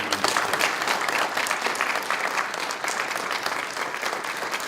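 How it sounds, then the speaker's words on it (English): A conference audience at a national security event applauds, with dense, steady clapping from many hands that holds evenly throughout. "big round of applause"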